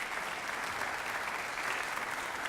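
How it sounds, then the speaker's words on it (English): Sustained audience applause fills a school spring choral concert hall, dense and steady clapping from a crowd throughout, with no talk over it. "So give yourselves a round of applause."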